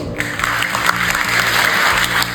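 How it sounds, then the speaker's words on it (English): A school crowd at an investiture ceremony gives a big round of applause welcoming the newly elected student prefect squad, loud dense clapping throughout with a low musical hum underneath. "Let us all welcome our newly elected student prefectorial squad for the year 2024-25 with a huge round of applause."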